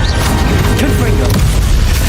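A Confringo fire spell bursts in Hogwarts Legacy, a loud booming blast with a crashing edge set in dense, continuous game noise.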